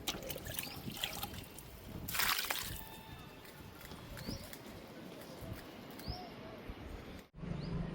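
Homemade zero-budget liquid fertilizer trickles and sloshes onto potted garden plants, with uneven splashy pours close by and faint bird chirps in the background.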